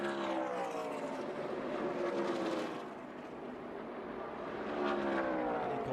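Racing truck engines roar past on a track's straightaway during a NASCAR truck race, their pitch sweeping up and down as trucks pass, with a steady loud drone throughout.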